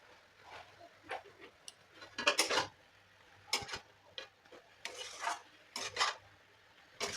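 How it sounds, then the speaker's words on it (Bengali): Fried fish heads dropped into a cabbage curry and stirred in a pan: a few soft scraping and clinking strokes of a spoon against the metal pan come in short bursts amid quieter pauses, with no talking. "আমি এখন এই যে ভেজে রাখা মাছের মাথাগুলো দিয়ে নেবো।"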